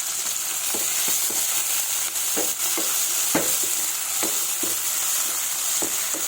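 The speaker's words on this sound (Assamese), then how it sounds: "পিঁয়াজখিনি ধুনীয়াকৈ ৰঙচুৱা হোৱাকৈ ভাজি ল'ম" Onions and tomatoes fry in a pan with a steady, close sizzle, broken by intermittent scrapes and clicks of stirring.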